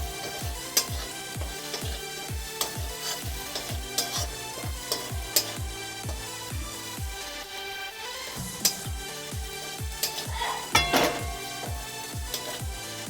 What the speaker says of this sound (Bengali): এই যে ভেজে রাখা আলুগুলো এবার দিয়ে দিলাম এবার নাড়াচাড়া করে নিয়ে